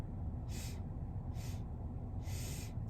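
A person inhales during box breathing, three slow soft breaths heard close over a steady background hum, each an airy hiss lasting a fraction of a second.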